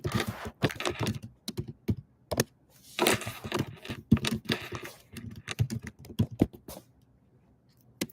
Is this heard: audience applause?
no